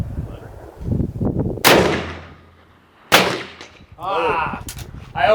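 A long-scoped rifle fires twice at steel gong targets: two loud, sharp cracks about a second and a half apart, each trailing off quickly, with voices talking before and after.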